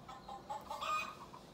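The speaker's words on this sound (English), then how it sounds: "Those are the chickens." Farm chickens cluck in a soft, brief run of murmured calls, heard faintly against steady outdoor background noise.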